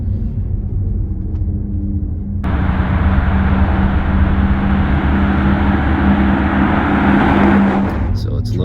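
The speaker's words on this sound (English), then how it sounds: "I was surprised how much that car sounds from the outside, this electronic sound." A Porsche Taycan Turbo electric car in Sport Plus mode drives along a twisty road, its synthetic drive sound rising into a steady loud whir and rumble that swells and holds for several seconds.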